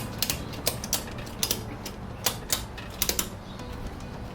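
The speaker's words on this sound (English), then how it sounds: "then you can go ahead and ratchet it." A ratchet strap on a scooter and wheelchair lift is cranked tight, giving a series of sharp mechanical clicks in irregular bursts, close and fairly quiet, with no talking.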